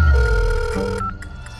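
A telephone rings with a steady electronic bell tone, close and loud, sounding alone for about a second before cutting off.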